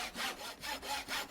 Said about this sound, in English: Oh, I hate that sawing noise.